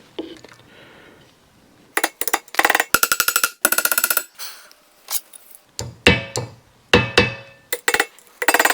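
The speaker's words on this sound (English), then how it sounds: "I think a hammer is in order." Sharp hammer strikes on metal fitting C-clips on a Cadillac Deville double Cardan driveshaft, clustered in quick bursts of ringing taps with short pauses between, close and loud.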